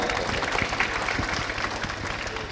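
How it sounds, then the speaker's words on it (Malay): An audience applauds at a televised Malaysian event, dense clapping sustained at moderate volume and fading slightly toward the end. "Kita bagi tepukan untuk Ustaz Ja"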